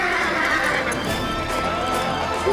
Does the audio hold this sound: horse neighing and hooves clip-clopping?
yes